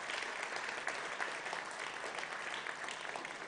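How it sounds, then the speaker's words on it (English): Steady applause from an audience at an environmental awards ceremony, continuous dense clapping filling the hall at moderate level with no voices over it. "give a big thunderous round of applause to kickstart this well-deserved felicitation"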